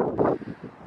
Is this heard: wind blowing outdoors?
yes